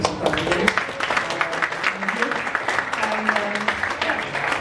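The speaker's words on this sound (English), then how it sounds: "Please give an applause to Professor Kraft." Applause for Professor Kraft after a lecture on Philippine foreign policy, a steady roomful of clapping sustained throughout at moderate loudness.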